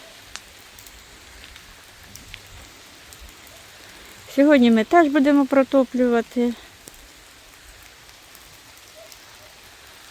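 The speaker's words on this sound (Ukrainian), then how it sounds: "Тим більше це пішов дощ" Autumn rain falls steadily with a soft, continuous hiss throughout, heard from indoors. A voice speaks briefly in the middle over it.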